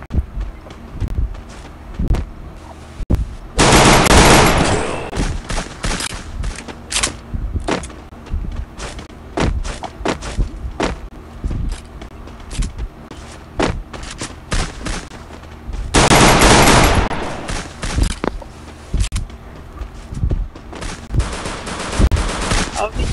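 Bursts of video game gunfire, with rapid automatic volleys and two long sustained barrages, recur through a busy in-game firefight while players talk over the action.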